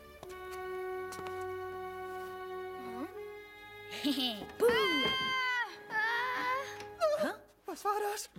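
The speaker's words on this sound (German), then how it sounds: "Wow, ist das eine Katze?" An animated cat meows and wails in several drawn-out, rising cries over the second half, close and fairly loud, with music and background sound underneath.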